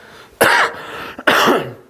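Two harsh, close coughs in quick succession during a maths class, each a loud burst that fades out, separated by a brief pause.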